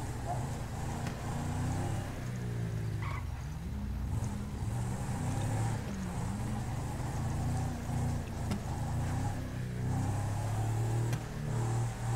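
A police car engine driving in a video game, a continuous mid-pitched motor drone that rises and falls with shifting revs over about twelve seconds, with a person talking over it at times.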